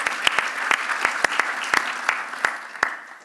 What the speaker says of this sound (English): Can we have a round of applause for a solution?